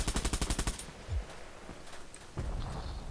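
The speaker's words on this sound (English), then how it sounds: "Hey, I'm gonna shoot this guy." Gunfire in the shooter game Bullet Run: a rapid automatic burst of about a dozen evenly spaced shots, followed by scattered quieter effects and game noise.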